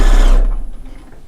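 A sewing machine stitching down a quilt strip runs loud and close in a brief steady whir, then stops abruptly, leaving faint mechanical settling.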